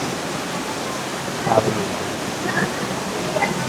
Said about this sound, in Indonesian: Tepat ketika sampai di resto, hujan deras.